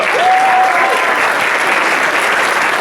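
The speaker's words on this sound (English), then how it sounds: "can we have a round of applause for the parents?" Loud, dense applause from an audience of students and parents at a leadership foundation event, a steady wash of clapping throughout with a brief cheering voice near the start.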